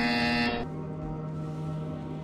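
Loud, steady low buzzer from Portal Stories VR, a flat horn-like tone holding for about half a second before dropping to a quieter sustained hum.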